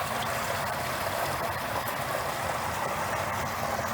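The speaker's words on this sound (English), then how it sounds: "The water's coming up, it's cleaning the inside of the carboy, and it's flowing right back into the bucket." Water pumped through a DIY keg and carboy cleaning station, spraying inside a carboy and draining back into a bucket, gives a steady, close rushing and trickling wash that runs unbroken throughout.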